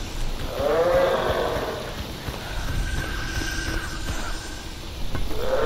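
Snork mutant creature in the S.T.A.L.K.E.R. Anomaly game lets out a loud, bleating, groaning cry at the start and again at the end, over a steady droning ambient background.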